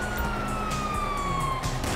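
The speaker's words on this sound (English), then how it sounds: "Hear that? Siren!" Police siren in Grand Theft Auto V wails with a long, falling tone over constant background game noise, loud and continuous throughout.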